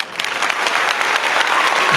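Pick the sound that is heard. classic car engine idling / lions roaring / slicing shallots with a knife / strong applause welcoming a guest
strong applause welcoming a guest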